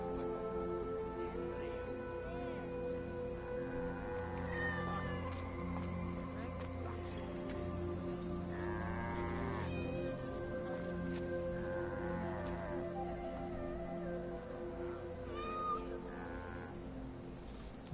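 Cat meowing repeatedly in Assassin's Creed Origins, several drawn-out mewing calls spread over a sustained background of ambient game music, with a voice talking intermittently.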